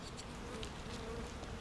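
Honeybees buzz steadily in a dense, close hum during a beehive inspection, a continuous drone with no pauses.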